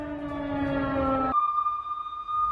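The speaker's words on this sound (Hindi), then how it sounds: "ये देखिए यहां पर किस तरह से एयर सायरन गूंज रहे हैं" Air raid sirens wail across Iran, a steady loud tone that abruptly drops to a higher thin pitch midway and keeps sounding without any talk.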